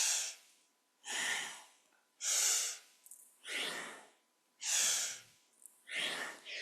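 Strong rhythmic breaths during a kundalini yoga exercise, six forceful inhales and exhales in a steady pulse about once per second, close and clear with quiet gaps between.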